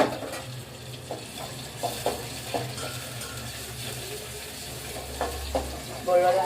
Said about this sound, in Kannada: ಬೆಳ್ಳುಳ್ಳಿ ಒಂದು ಸ್ವಲ್ಪ ಎಣ್ಣೆಗೆ ಚೆಂದಾಗಿ ಕೆಂಪಾಗಿ ಫ್ರೈ ಮಾಡ್ಕೊಳತ್ತೀನಿ